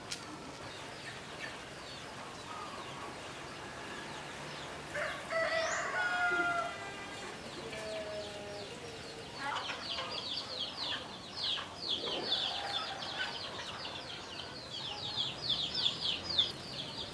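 Farmyard chickens cluck and squawk at moderate distance while a rooster crows in a long, drawn-out call midway, with more clucking and fowl chatter building toward the end over faint outdoor ambience.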